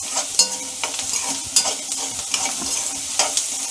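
Onions salted in a hot pan sizzle steadily while a spoon stirs them, adding regular scraping clicks over the continuous frying hiss, close up with no voices.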